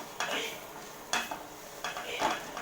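Chicken curry with chicken masala is stirred in a pan, with three distinct scraping strokes of a spoon against the metal over a soft background sizzle.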